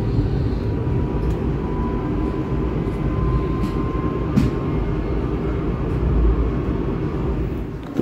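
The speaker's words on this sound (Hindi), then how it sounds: "तो ये हमारी आ रही है ट्रेन" Train in Switzerland on a snowy, rainy day, a steady low rumbling drone of rolling rail cars with faint squeals and light clicks, fairly close and unbroken throughout.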